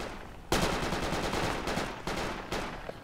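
Automatic gunfire in the military shooter game Project Reality, with loud, close rapid bursts that start abruptly and recur in short volleys about every second or two, and no voices over them.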